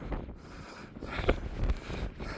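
Strong wind buffeting the microphone on a Peak District hilltop near Hollins Hill and Chrome Hill, a loud rumbling roar rising and falling in gusts with no talking.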